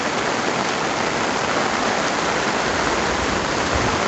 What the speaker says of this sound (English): See, that water's coming off, and it is draining